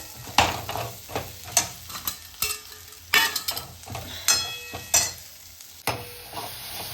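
Peas are stir-fried in a pan of paneer curry base with turmeric, with a continuous hiss of sizzling and repeated rhythmic scrapes and clacks from a spoon stirring every half second or so.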